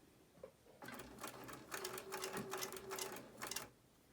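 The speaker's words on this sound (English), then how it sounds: "then you're going to sew with a 1/4 inch seam allowance and back stitch at the beginning and the end." A sewing machine runs a quarter-inch seam on a quilt block in short bursts of rapid needle stitching, with brief pauses in between. It sounds close and fairly loud, and there is no speech.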